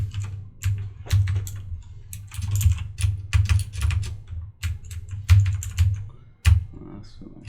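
Clacking keystrokes on a computer keyboard come in quick uneven bursts with short pauses, close and fairly clear, while a low steady hum sits underneath.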